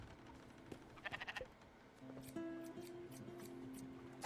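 Sheep bleating in the video game Spiritfarer: a short, quick series of wavering bleats, then a faint tonal chime and soft background game sounds.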